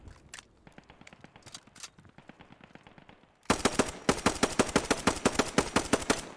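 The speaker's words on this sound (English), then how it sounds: "this is a good test to see how many mags it takes from a carbine" Carbine gunfire in Post Scriptum: a stretch of irregular, lighter shots and clicks, then a loud rapid burst of evenly spaced rounds firing in quick succession near the listener.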